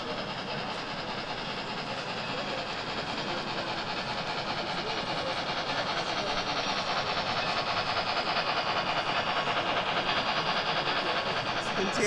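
A model railroad locomotive runs on a layout at a live model railroad show, giving a continuous rolling rumble with faint rail clatter under steady crowd chatter throughout.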